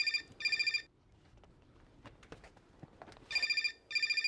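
A telephone rings on a film set in two pairs of bright electronic trilling bursts, one pair at the start and one at the end, with quiet shuffling and faint background noise between them.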